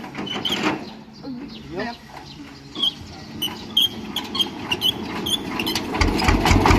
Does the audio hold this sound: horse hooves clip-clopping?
no